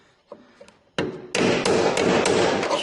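A hammer strikes a steel Bronco quarter panel to break a spot weld loose. A few light taps come first, then heavy, ringing metallic blows in quick succession, up close.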